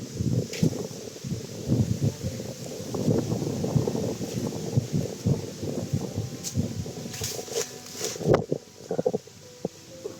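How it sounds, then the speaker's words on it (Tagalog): Strong wind blowing outdoors along a trail, a steady roaring buffet and rustle against the microphone, continuous and loud throughout with occasional knocks. "Lakas ng hangin dito"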